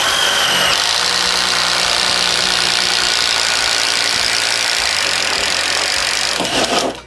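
A Bosch Freak impact driver bores wood with a 1 inch Irwin speed bore bit, a loud continuous rattling hammer and motor whine lasting several seconds before stopping abruptly, close by with no talk.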